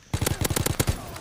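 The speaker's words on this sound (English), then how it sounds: "My teammates are shooting at each other" Rapid automatic gunfire in a WW2 shooter game as teammates fire on each other, a close burst of about a dozen sharp shots in quick rhythm lasting around a second.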